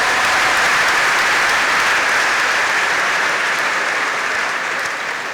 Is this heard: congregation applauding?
yes